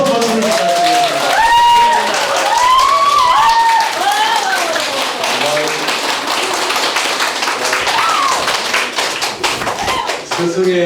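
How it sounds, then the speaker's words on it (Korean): An audience at a lecture in Busan applauds to welcome a visiting teacher, loud, dense clapping from a crowd with cheering voices rising over it throughout. "다시 한번 큰 박수를 부탁드리겠습니다."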